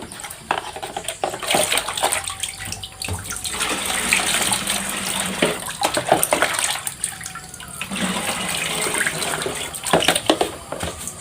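Water poured and splashed over rice straw laid on plastic sheeting while making fermented cattle feed with EM4, a steady rushing pour with brief pauses, no talk.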